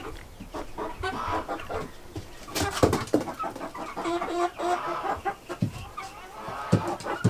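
Chickens on a farm cluck and squawk in irregular bursts near and mid-distance, layered with overlapping calls and some rustling, with faint speech now and then.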